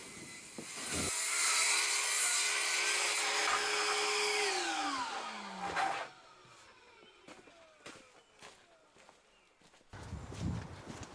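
A power saw cuts wooden rafters to length. It spins up loud and whining, runs through the cut for about five seconds, then winds down. Afterward come scattered knocks of timber being handled.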